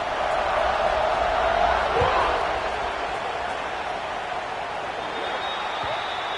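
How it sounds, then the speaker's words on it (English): A football stadium crowd roars in a broad, sustained wash of cheering that swells and then holds steady, with a commentator's voice running over it. "this crowd is feeling themselves after that last drive"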